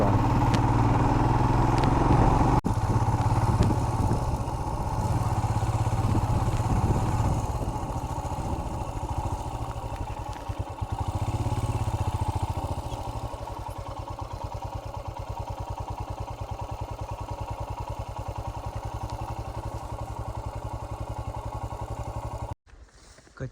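A motorbike rides along an unpaved dirt road near Monigong in Mechuka, its engine running steadily and loudly close to the microphone with some rattling, before cutting off abruptly near the end.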